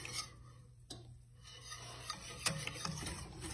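A whisk stirs and scrapes a thickening flour paste in a pot while it cooks for red velvet cake ermine frosting; a quiet, close, uneven rasping with a few light clicks against the metal.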